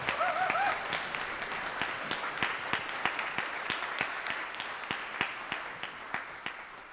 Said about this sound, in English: So a little round of applause for Derek.